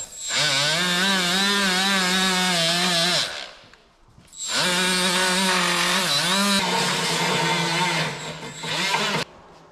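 A wire wheel buffing paint off metal before welding, giving two long, loud, steady whining runs separated by a brief pause, with the pitch dipping as the wheel bites.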